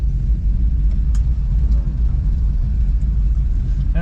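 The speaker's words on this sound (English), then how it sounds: "Get that nice choppy idle that you like." A lightly modified 302 V8 in a 1968 Ford Mustang GT California Special idling with a loud, choppy, lumpy rumble, close up and steady throughout.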